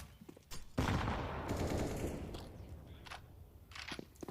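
Gunfire in Counter-Strike on the Inferno map, heard from a professional esports match: a burst of rapid shots breaks out loud and close, holds as a rattling volley for about a second, then fades into scattered later shots.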